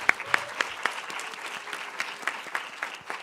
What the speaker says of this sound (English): A big round of applause for Bongi.